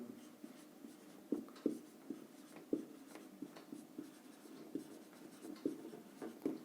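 Pen writing by hand on paper while working a Class 10 geometry problem, a steady run of soft scratching strokes with sharper taps at irregular intervals, close and quiet, with no talking.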